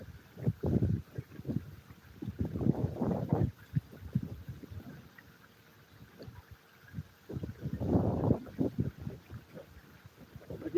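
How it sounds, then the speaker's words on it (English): Wind blows outdoors at a gold prospecting camp in rough, uneven gusts that buffet the microphone in low, rumbling bursts, with quieter lulls in between. "I can hear the wind picking up."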